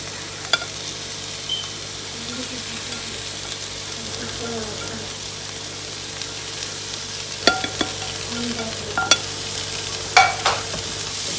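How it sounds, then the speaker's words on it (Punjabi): Onion, carrots and crushed potatoes frying in a pan under a steady hiss, with occasional stirring scrapes and clinks that grow busier toward the end, over a faint constant hum. "ਇਹਨੂੰ ਵੀ ਚੰਗੀ ਤਰ੍ਹਾਂ ਆਪਾਂ ਮਿਕਸ ਕਰਕੇ ਭੁੰਨ ਲਾਂਗੇ"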